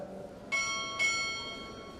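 Two clear strikes of a ship's bell at a Navy chief pinning ceremony, spaced roughly half a second apart, the bright ringing tone lingering and fading over faint room hush.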